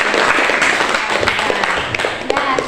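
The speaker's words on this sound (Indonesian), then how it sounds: "Tepuk tangan dulu." Classroom students clapping together at a teacher's prompt, a short burst of quick, fairly close hand claps lasting under three seconds, with faint voices mixed in.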